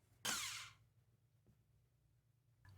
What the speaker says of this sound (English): I've already started drilling out the holes on my lid